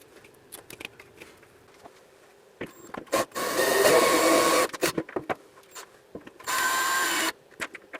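A power drill whirs in two sustained bursts, its bit grinding against metal wall studs it cannot pierce, separated by short clicks and handling noises.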